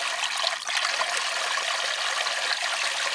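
Water rushes steadily over an exposed filter in a water line at a remote property, a continuous broadband trickling and gushing flow, close and even throughout with no voices.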